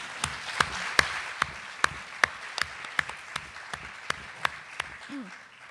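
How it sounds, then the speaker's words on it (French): Applause from a gathered audience for event volunteers, with a few sharp claps standing out over a steady patter of hands that thins toward the end, plus a brief voice near the close. "il faut applaudir tous les bénévoles"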